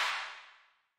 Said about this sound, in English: which is just like a nice clap